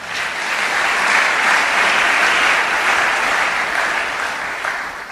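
A church congregation breaks into sustained applause, a dense, even wash of many hands clapping together for several seconds, loud and steady before tapering slightly at the end.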